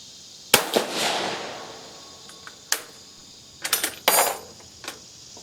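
Sharp, loud gunshots from an Italian Vetterli 1870/87/15 rifle fired outdoors, several single cracks spaced seconds apart with a short cluster near the end, each fading into a brief echo.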